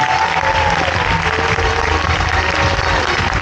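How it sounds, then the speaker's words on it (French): A crowd applauding itself at a Parcs fan event held at the Jardin d'Acclimatation; loud, dense, continuous clapping that stays even throughout, with faint voices and a whistle-like tone mixed in beneath. "Vous pouvez vous applaudir"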